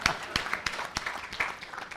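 A small audience claps for a panelist at a Department of Public Works event, with scattered, distinct hand claps over a light background patter, moderately loud and sparse.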